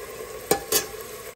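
Spice tempering (tadka) sizzles in a pan for Punjabi-style lauki and chana dal, a steady close hiss broken by two quick scraping stirs, with no talk.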